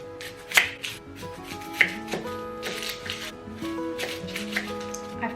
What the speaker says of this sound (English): So I'm going to take one yellow onion.